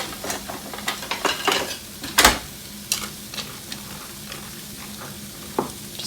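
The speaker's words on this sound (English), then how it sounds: "we're gonna give that a quick little stir" Pasta stirred in a pot while cooking chicken and noodles, a few scattered close clinks and scrapes of a utensil against the pot over a low steady hum, with one sharper knock near the middle.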